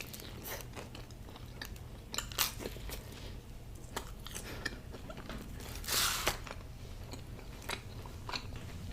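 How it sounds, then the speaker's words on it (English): Someone eats Haitian pizzas topped with oxtail and griot, with soft close-up bites and chewing and a few louder crunchy moments over a steady low background hum. "Oxtail pizza, 10 out of 10. Griot pizza."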